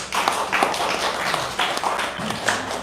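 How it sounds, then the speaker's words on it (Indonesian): An audience of ladies and gentlemen gives a short round of applause, a scattered, moderately loud patter of hands with little else over it. "boleh tepuk tangan Ibu Bapak"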